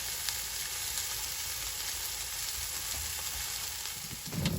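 A ribeye steak sears in a hot cast iron skillet at deer camp, giving off a loud, steady, close sizzle that continues throughout.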